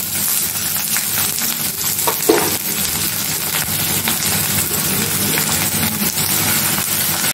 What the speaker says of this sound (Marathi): फोडणीसाठी कांदा टाकलाय। आता तो लाल होईपर्यंत मी चांगला परतून घेते